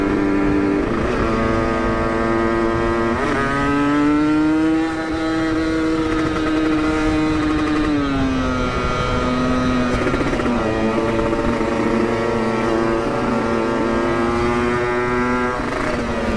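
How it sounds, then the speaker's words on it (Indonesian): Motorcycle fitted with an Aitech aftermarket exhaust, revving loud and close in repeated rising and falling throttle blips over a steady rough idle, with no talking. "Langsung ngegas."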